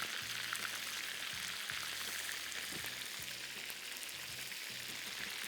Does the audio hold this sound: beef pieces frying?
yes